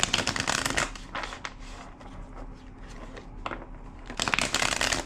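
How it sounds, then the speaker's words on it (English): Deck of cards being shuffled close up, riffling bursts at the start and end with softer handling between, no talking. "2 more shuffles."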